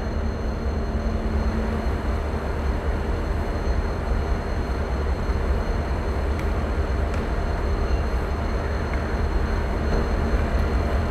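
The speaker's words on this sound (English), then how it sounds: "also one train is coming on the in opposite track" A train on the opposite track in a railway simulator game passes as a loud, steady rumble with constant broadband rolling noise and no voices.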